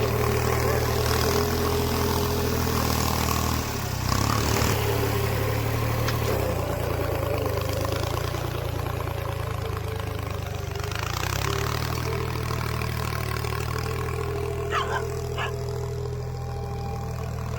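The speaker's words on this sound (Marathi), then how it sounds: "इथं त्यांची मुलं ट्रॅक्टर हाकतात" A tractor engine idles steadily on a farm with a low continuous rumble, joined by faint background noises and a few brief sharp sounds near the end.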